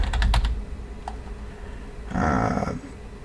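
Quick bursts of computer keyboard typing during an online word quiz: a fast clatter of keys at the start, a lone tap, then another dense flurry of keystrokes, close and fairly loud.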